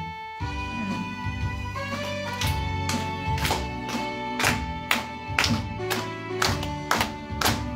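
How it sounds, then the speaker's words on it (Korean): A church congregation claps along to a Korean hymn, steady rhythmic hand claps roughly every half second, growing firmer as organ or keyboard chords sustain underneath throughout. "우리 한번 힘차게 한번 박수 치시면서 한번 찬양해 보실까요?"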